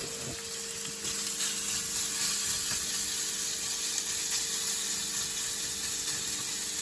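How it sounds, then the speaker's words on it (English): Italian-seasoned ingredients fry in a pan over a low flame with a steady, close hiss and sizzle that holds for several seconds, with no talking. "I'm going to dump that into the pan and we're going to get it frying."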